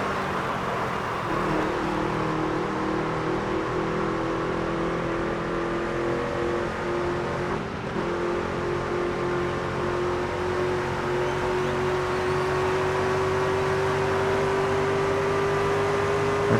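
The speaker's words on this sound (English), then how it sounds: "Here comes more vehicles behind me." Race cars roaring around an oval in the game NASCAR 25 as more cars close in from behind: a steady, loud engine drone with one whining tone slowly climbing in pitch, continuous throughout and without speech.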